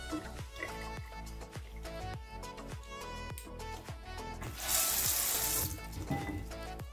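Tap water runs steadily into a sink while fresh ginger root is washed by hand, with a rhythm of splashes and knocks and a brief louder gush midway.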